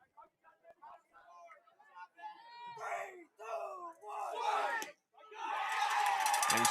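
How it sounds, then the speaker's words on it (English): High school baseball crowd at a Stone County playoff game, voices rising into shouts and cheers in bursts before a loud sustained roar of cheering at the end, with talk mixed in. "Good crowd here in Stone County tonight"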